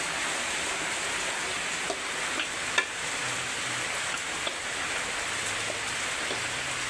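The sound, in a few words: flour roasting in ghee while stirring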